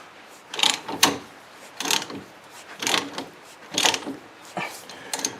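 A 7/8 socket on a ratchet tightens the lower ball joint nut on a Dodge Dakota, giving five rhythmic bursts of clicking ratchet strokes, close and moderately loud, with no talk.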